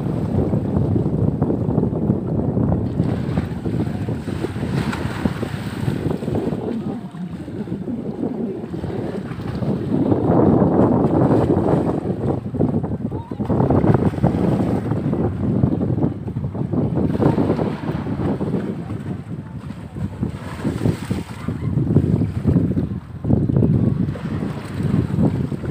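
Strong, cold sea wind roars steadily against the microphone on a beach, a continuous rushing noise with surging gusts and waves faintly underneath.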